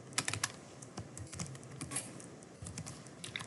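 Keys clatter on a computer keyboard as code is typed, quick close taps in short bursts with brief pauses, no speech.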